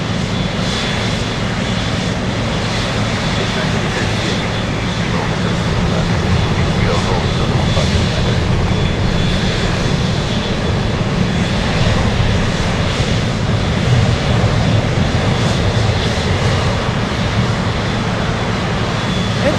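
A Boeing 747 Dreamlifter jet on the runway at Anchorage, a loud, steady engine roar that holds without letup for about twenty seconds.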